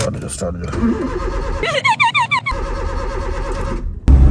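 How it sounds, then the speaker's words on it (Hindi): A car starter cranks in a quick rhythmic burst during roadside maintenance in Pakistan, then the engine catches and runs steadily nearby, with someone talking over the opening moments. "चलो जी स्टार्ट हो जाओ।"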